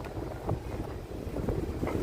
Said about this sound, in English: Now it's kind of windy again.